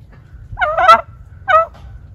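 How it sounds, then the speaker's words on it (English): Bird calls in a duck pen, two short honking, chirping calls a moment apart, close and clear over quiet background noise. "Oh, he's chirping."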